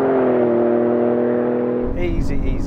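Ford F150 Raptor pickups in a drag race, one a V6 turbo and one an older V8 SVT, give a loud sustained engine drone that shifts and roughens near the end as another vehicle's noise rushes in.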